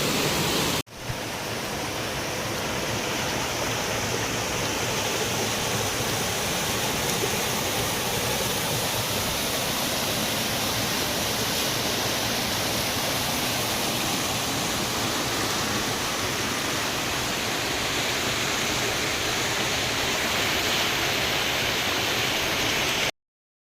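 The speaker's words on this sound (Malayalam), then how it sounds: "അവിടെയാണ് നമ്മുടെ വെള്ളച്ചാട്ടം" A waterfall in Thrissur roars steadily and loudly, a dense unbroken rush of falling water with no voices.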